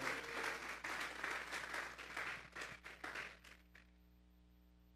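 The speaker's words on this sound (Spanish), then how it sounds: "Vamos a darle esa ofrenda de palmas a Dios en esta hora." Congregation at a Sunday church service applauding as an offering of praise to God, steady sustained clapping for about three seconds that thins out and fades to quiet.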